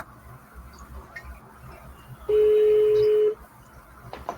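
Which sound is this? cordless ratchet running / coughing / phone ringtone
phone ringtone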